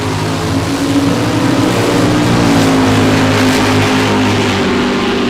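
A drag racing car in a time-trial qualifying pass at Cordova Dragway during the Summer Nationals gives a loud, sustained engine roar that fills the whole stretch without pause.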